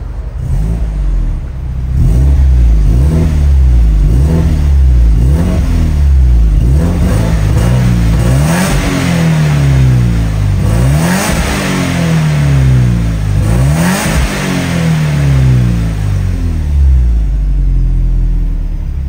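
A 2005 Subaru Impreza WRX STI Spec C Type RA (GDB) engine revs repeatedly through its exhaust muffler, loud rumbling rising and falling in pitch over and over, heard up close.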